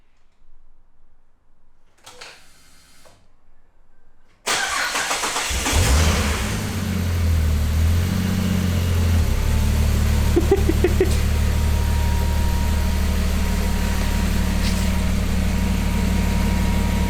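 Turbo-converted Ford Falcon FG engine on 98 fuel cranks after quiet shuffling, catches and fires, then settles into a loud, steady idle close by, with a low rumbling drone holding to the end.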